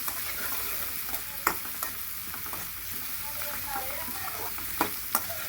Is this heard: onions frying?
yes